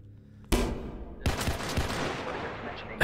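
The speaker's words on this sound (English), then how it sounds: "Who's shooting all the time?" Video game gunfire in a multiplayer shooter: a sharp loud burst, a short pause, then sustained rapid automatic fire with echoing cracks, close and harsh over quiet background.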